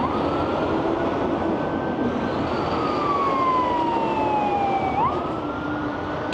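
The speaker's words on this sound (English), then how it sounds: "Ambulance literally stuck in wall-to-wall traffic down there." An ambulance siren wails in a slow falling sweep that then rises again, distant and heard through a constant roar of heavy, wall-to-wall traffic.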